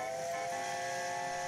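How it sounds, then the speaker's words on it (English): A sustained train whistle holds steady over a dense, rushing background, loud and continuous for the whole moment. "Just then, the station master heard a whistle."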